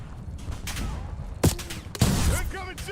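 Gunfire in the Call of Duty: Warzone video game: loud bursts of shots around 1.5 and 2 seconds, followed by rapid fire, under a steady game soundscape.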